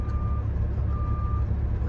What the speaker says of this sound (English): He's backing up.